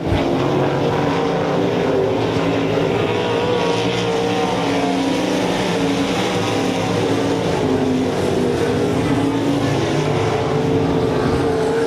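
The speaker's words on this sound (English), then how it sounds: "Keith Himmel now rolling turn number 1. Just a few laps left to go right here at RPM Speedway" Sprint cars race around the RPM Speedway track in a 305 sprint heat, a dense, continuous roar of several engines at full throttle, loud and unbroken for the whole stretch.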